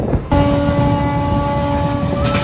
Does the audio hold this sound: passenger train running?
yes